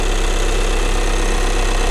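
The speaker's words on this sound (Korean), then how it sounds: "엔진 소리 일정하네요" Volkswagen Passat 2.0 TDI B7 diesel engine idling with its hood open, a steady, close diesel rumble with a faint knocking texture and no voices.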